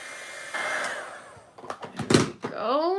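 A heat tool blows steadily while melting embossing ink on a card, a loud close airy whoosh that rises in pitch, drops out briefly amid a few handling bumps, then roars back.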